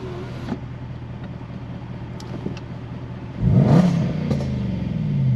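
A Jaguar XF R (X250) engine starts with a push-button press and the crank catches about a third of the way in, then settles into a loud, rumbling idle with a brief blip of revs. It sounds close-up, with no talking.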